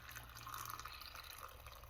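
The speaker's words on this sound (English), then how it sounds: "hopefully I've got enough water to fill it all the way up to the top" Water is poured into a mason jar packed with pickled onions, a faint, steady trickle of liquid filling the jar that lasts the whole moment with no voices.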